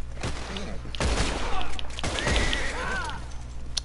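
Several loud gunshots crack in quick succession amid game-like effects and background noise, with brief pauses between the bursts.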